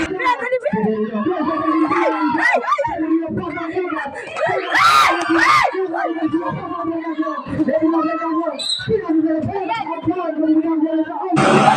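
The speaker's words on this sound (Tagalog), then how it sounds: "Oh, narinig nyo ba yung tili ko?" A loud crowd at a barangay basketball league game, with a woman's shrill, excited screams rising over continuous cheering, shouting and chatter from many voices nearby.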